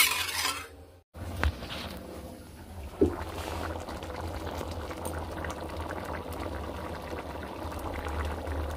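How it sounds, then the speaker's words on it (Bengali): Chili chicken curry gravy boiling in a pot, with a steady close bubbling and simmering hiss that keeps going throughout after a brief dropout near the start. "তো চলুন এটা শুকনো, মানে ঝোলটা ফুটে উঠুক"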